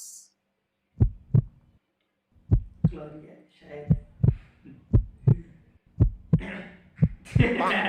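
A sound-effect heartbeat thumps in steady double beats, loud and close, with short gaps at the start and then continuous pulsing as a voice talks over the later part.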